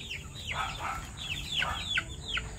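Chicks and hens cluck and peep in a morning yard, several overlapping high chirps and soft clucks repeating close by over a steady low farmyard background, with no talking.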